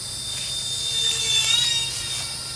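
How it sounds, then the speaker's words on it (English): High, sustained whine of the twin electric ducted fans of an E-Flite Citation Longitude model jet, swelling slightly as it passes, then settling back to a steady pitch. "Love the sound of twin EDFs"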